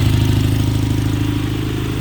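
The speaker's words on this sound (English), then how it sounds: "this old Onan purrs like a kitten now" The Onan engine of a Cub Cadet 2072 garden tractor, recently repaired, idles up close with a steady, even low-pitched chugging pulse, loud and unbroken, with no voices.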